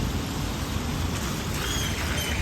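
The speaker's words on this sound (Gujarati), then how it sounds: "વરસાદ ચાલુ છે ફૂલ વરસાદ" Heavy rain pours down in Rajkot as a dense, steady hiss and roar with no break and no voices.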